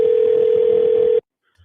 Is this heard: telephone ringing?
yes